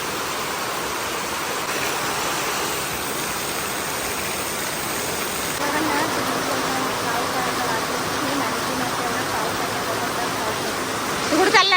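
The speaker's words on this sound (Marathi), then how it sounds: "आज एवढा पाऊस आहे भरपूर पाऊस आहे बापडे जबरदस्त पाऊस आहे" Heavy monsoon rain in the Konkan region pours steadily as a dense, continuous hiss, with a low engine-like rumble joining partway through.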